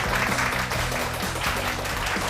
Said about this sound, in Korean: 박세인 대표님을 큰 박수로 모셔볼게요